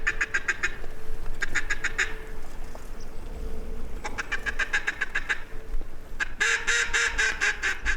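Ducks quack in rapid, repeated bursts during a Mississippi duck hunt, some nearer and louder, with a steady low hum underneath.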